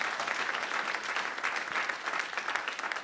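A church congregation claps for Jesus during a sermon, producing dense, steady applause from many hands that fills the room without a break.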